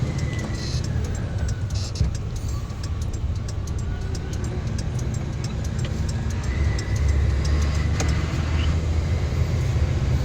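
Slow traffic in a long jam near a fuel station in Indonesia, heard from inside a vehicle: a constant low engine and road rumble with faint ticking and passing vehicle sounds, steady and without talk.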